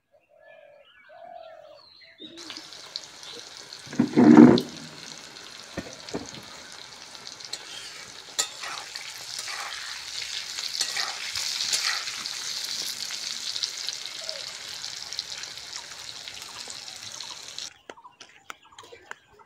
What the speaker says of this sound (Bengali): পটলগুলো ভালো করে ভেজে নেব।